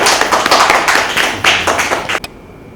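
Children at a Pakistani Independence Day program clap together in a brisk, uneven burst of close handclaps that stops abruptly near the end.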